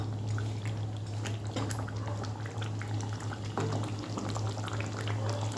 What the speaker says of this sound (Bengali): একটু টকবক করে ফুটুক